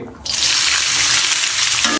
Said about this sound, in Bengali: এই সমস্ত সবজিগুলোকে একসাথেই কড়াইয়ের মধ্যে ঢেলে দিচ্ছি